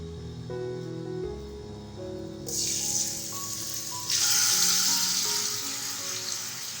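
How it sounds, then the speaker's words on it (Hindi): Marinated chicken fries in a pan over a medium flame. A loud, continuous sizzle rises sharply partway through and swells again, over a low tonal hum in the background. "ये देखिए चिकन मेरा फ्राई हो रहा है"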